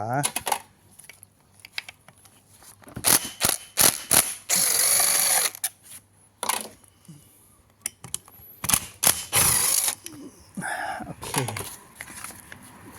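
Nuts being loosened and removed from a Komatsu Zenoah G3K small two-stroke engine during repair, with sharp metallic clicks, ratcheting and tool clatter in irregular bursts, close and moderately loud, with brief speech between.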